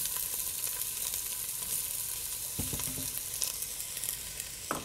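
Diced onion sizzles in a pot as a steady, moderately quiet frying hiss, with a few sharp clicks and taps of a utensil near the end.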